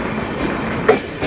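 A passenger train near Akola Junction rumbles steadily along the tracks, heard from inside a carriage, with a couple of sharp wheel clacks near the end and no talk.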